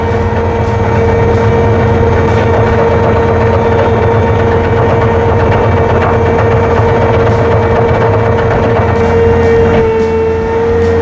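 A Bobcat tiller working loose ground, running steadily with a loud, continuous engine drone and a whining tonal hum, with no pauses and no talking.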